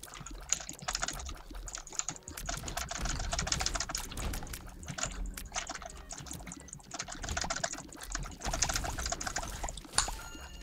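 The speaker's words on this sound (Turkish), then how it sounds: "Sadece klavye değil, fare de spamlıyorsun." Rapid, busy keyboard and mouse clicking during a session of The Binding of Isaac: Rebirth, a dense continuous clatter of keystrokes and clicks running the whole time at close range, with no talking.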